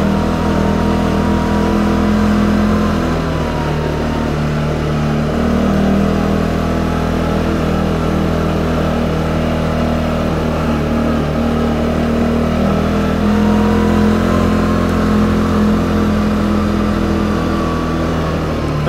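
A CFMOTO or Can-Am off-road vehicle engine revs steadily while climbing a steep hill, a loud, continuous mid-pitched drone with slight surges in throttle throughout and no talking.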